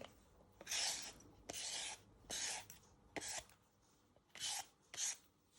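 Carrots being peeled with a vegetable peeler, six quiet, close scraping strokes in an uneven rhythm with short pauses between them, and no voices.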